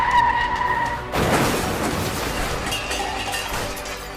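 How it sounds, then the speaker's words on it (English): A chain-reaction car crash on a road after one driver, a Ford involved, brakes far too late: a sudden loud impact at about one second with crunching and glass clinking, followed by lingering scraping and traffic noise. "Chain reaction of one person not paying attention and braking way too late."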